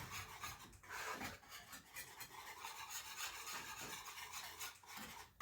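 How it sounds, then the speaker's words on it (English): A whisk scrapes and rasps steadily around a bowl, mixing a cayenne-spiked seasoning blend for smoked and fried pork chops, the close scratchy stirring continuous for several seconds with no talk. "Take the old whisk, give her a mix."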